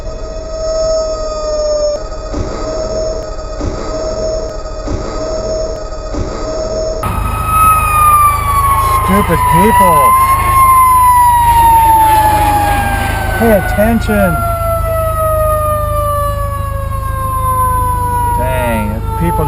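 A fire truck siren wails loudly and close, with a steady tone at first and then a rising, sweeping wail alongside engine rumble in Raleigh traffic, while a person talks over it.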